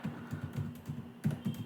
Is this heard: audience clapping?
no